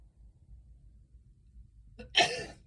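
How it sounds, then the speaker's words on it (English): After a quiet stretch, a single sharp sneeze bursts out loudly near the end, close by. "I'm going to sneeze again, allergies."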